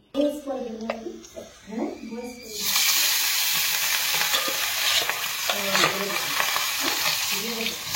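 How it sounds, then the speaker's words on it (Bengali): Tangra fish fry in a pan. After a few seconds of talking a loud, continuous close-up sizzle starts, and voices continue over it. "এই দেখো কিছুটা ট্যাংরা মাছ আমার ভাজা হয়ে গেছে, আর কিছুটা ভাজছি।"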